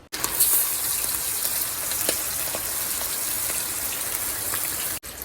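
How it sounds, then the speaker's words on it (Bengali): Steady rain falls outdoors, a constant dense hiss with occasional sharper drop taps, even and close throughout, cutting off briefly near the end. "বাইরে তো বৃষ্টি চলছে একভাবে বৃষ্টি পড়ছে"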